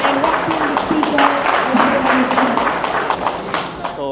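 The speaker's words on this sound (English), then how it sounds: "Can we give a huge round of applause, everybody together once again, and welcome the speaker." A conference audience at a traders summit in Bengaluru applauds to welcome a speaker, with loud, dense clapping from a crowd and a voice calling out over it.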